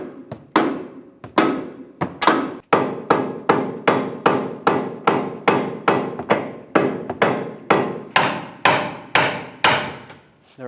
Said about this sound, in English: I'm going to take a rubber mallet, hammer right here, hopefully bring this down.